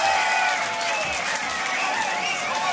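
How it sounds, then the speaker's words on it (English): An audience at a beatbox battle applauds and cheers a solo elimination performer in a continuous wash of clapping and crowd noise, fairly loud and steady, with some shouting mixed in. "Make some noise for CODFISH."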